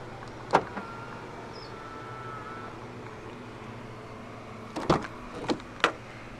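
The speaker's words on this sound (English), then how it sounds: "And to unlock the doors, just tap the chrome button again." A single lock clunk sounds, then after a pause a quick series of three mechanical clicks as a 2013 Kia Cerato's door locks release via a chrome keyless button.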